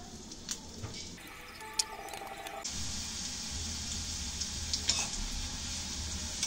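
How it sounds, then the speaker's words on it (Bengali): Green chillies and onion frying in hot oil in a wok, a steady sizzle that swells and holds on close by, with a few stirring clatters early on. "তেলটি গরম হয়ে গেলে কাঁচা ঝাল আর পেঁয়াজটা ভেজে নেব।"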